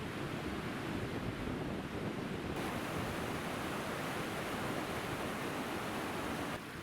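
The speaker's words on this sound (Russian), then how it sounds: "Вода с шумом течет между этих камней" Steady, loud rush of a mountain river tumbling over rocks below a waterfall in the Altai Mountains, a continuous broadband roar with no pauses, close by.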